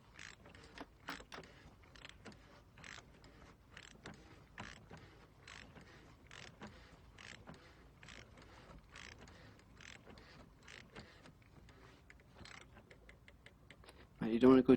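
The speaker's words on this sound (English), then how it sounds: "just tighten it up the rest of the way with the ratchet" A ratchet tightens an oil filter housing on a Citroen C4 with a quick, close run of crisp clicking strokes in bursts, fairly quiet, with a louder clunk at the end.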